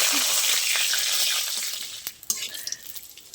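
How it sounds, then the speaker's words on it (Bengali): Dried red chilies, bay leaves and spices sizzle loudly in hot oil, the hiss fading slightly as a utensil stirs and scrapes with a few sharp clicks. "মশলাটা একটু ভালো করে ভেজে নেবো"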